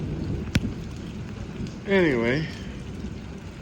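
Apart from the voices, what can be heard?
rain falling in the desert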